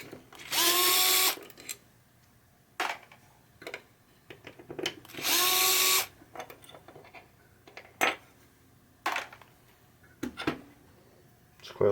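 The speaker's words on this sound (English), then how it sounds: "Let's get these screws out here." A power screwdriver whines in two strong bursts while backing screws out of a drop target assembly on a 1974 Williams Star Action pinball machine, followed by scattered clicks and small metallic clatters of parts being handled, close by with no talk.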